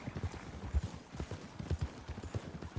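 Video game horse hooves clip-clop at a steady trot close by as a horse-drawn wagon rolls past on the right, with a faint voice in the background.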